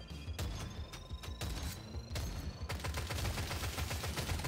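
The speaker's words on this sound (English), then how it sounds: "We'll shoot more bullets." Smart rifle gunfire in the video game Deep Rock Galactic Survivor: a dense, continuous stream of rapid shots that grows heavier and fuller in the second half, loud and close throughout.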